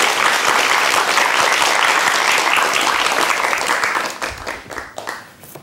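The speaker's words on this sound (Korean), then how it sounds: "여러분 박수로 첫 번째 이야기 청해 듣겠습니다" An audience at a televised storytelling program breaks into loud, dense applause. It holds steady for about four seconds, then thins into scattered claps and fades out.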